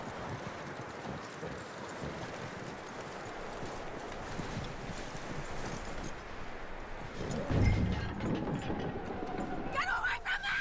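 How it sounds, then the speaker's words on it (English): Horse hooves clop steadily on the ground in Red Dead Redemption 2, with saddle and movement noise, ambient outdoor sound and a louder thud and shuffle near the end, with voices talking at times. "That looks like a decent horse."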